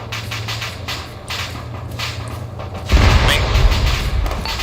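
Arma 3 battlefield with an accidental detonation: a low rumbling background of distant gunfire, then a sudden heavy boom that swells and rolls on loudly for the last couple of seconds.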